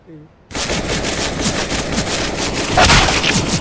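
Rapid automatic gunfire from the video game CS:GO bursts in after a short quiet moment and keeps rattling loudly, with a slightly heavier flurry near the end.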